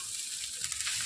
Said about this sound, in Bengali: এটা দেওয়ার পরে খুন্তির সাহায্যে খুব ভালোভাবে নেড়ে মিশিয়ে নিতে হবে